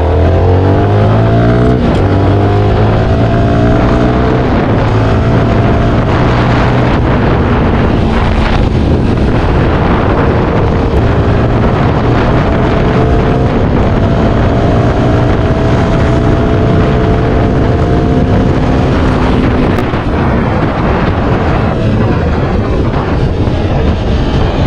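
A 2023 CFMOTO 300 NK motorcycle rides along a road, its engine droning loudly with rising and falling gear-shift tones, buffeted by heavy wind noise across the microphone, no one speaking.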